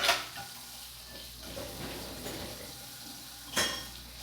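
Plates and pots clinking while dishes are washed in a home kitchen after cooking chicken adobo, with scattered soft clatter and a sharper clank near the end, no voices.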